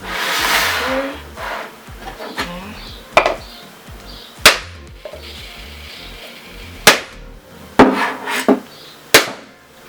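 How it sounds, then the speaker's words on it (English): Sharp, loud hammer blows strike a whole coconut to crack it open, about eight irregular cracking impacts spread over several seconds with quieter handling noise between. "So we have a coconut, we have a hammer. We're gonna hit right here."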